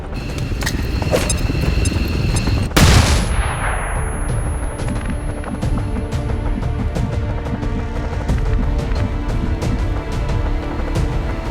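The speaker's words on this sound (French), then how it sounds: "Grenade flash!" A flashbang grenade goes off in the XCOM 2 video game: one loud, sharp blast with a ringing decay, set against a continuous clatter of gunfire-like bursts and battle noise.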